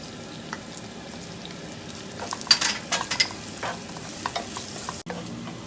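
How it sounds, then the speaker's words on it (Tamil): Onions frying in oil with a little salt until golden: a soft continuous sizzle with a few clinking stirs of a spoon against the pan, close by and with no voices. "வெங்காயம் நல்ல பொன்னிறமாக வரும் வரைக்கும் நல்லா நாங்கள் இதை தாளித்து கட்டுவோம்."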